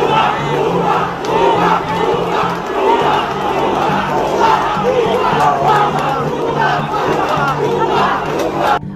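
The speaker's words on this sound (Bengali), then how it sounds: "এ সময় আন্দোলনকারীরা বক্তব্য ও স্লোগান দিতে থাকেন" Loud, continuous chanting from a crowd of protesting students in a Dhaka street, many voices rising and falling together in rhythmic slogans for the whole stretch, with a steady low rumble beneath.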